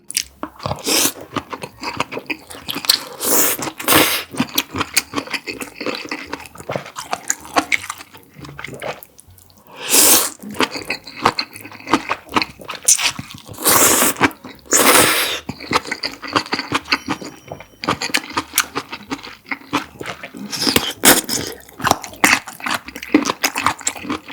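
Close, crisp chewing and biting of bamboo shoots from a bowl of malatang during a mukbang, wet crunchy bites repeating steadily with brief pauses and no talk.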